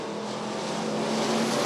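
Race cars roar along the back stretch of Rockford Speedway during bracket racing, a steady loud engine drone that swells slightly as the machines close in.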